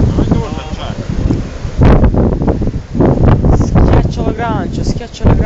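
Light wind buffets the open air at a trabucco fishing platform on the coast at Punta San Nicola, a steady rushing hiss under people talking throughout.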